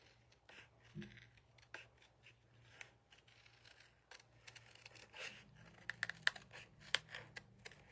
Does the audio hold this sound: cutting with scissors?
yes